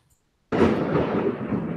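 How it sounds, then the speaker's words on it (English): Loud thunder from a lightning storm breaks in suddenly after near silence, a deep sustained rumble that rolls on without fading. "There's a big lightning storm right now."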